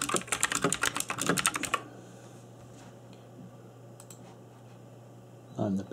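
Rapid clattering keystrokes from a cheap mechanical keyboard, close and fairly loud for the first two seconds, then the typing stops, leaving low hum and faint clicks, with a brief sound near the end.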